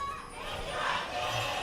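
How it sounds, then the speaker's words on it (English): KT Rolster fans in an LCK esports arena raise a short, loud crowd chant during a League of Legends match, a massed blend of voices swelling briefly and echoing through the hall. "All the KT fans saved up their energy in order to give it to this last remaining chant that they had available to them"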